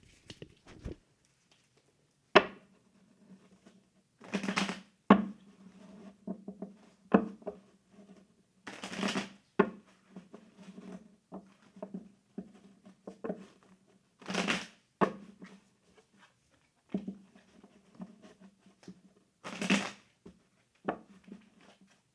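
Tarot cards shuffled in bursts during a psychic reading, a series of short papery riffles and shuffles spaced a few seconds apart, soft and close with quiet pauses between.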